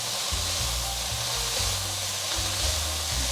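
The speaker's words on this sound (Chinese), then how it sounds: "空心菜放进来之后，就要转大火，快速翻炒，空心菜才不会变黄" Water spinach stir-fried over high heat gives a loud, continuous sizzle and hiss, with repeated scraping and tossing strokes from chopsticks and a spatula throughout.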